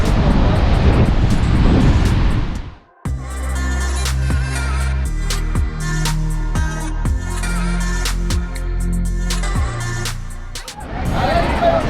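Wind and ocean waves roar loudly at Kanyakumari, where the Bay of Bengal, Arabian Sea and Indian Ocean meet. The roar is heard at the start and end, and music replaces it for most of the middle.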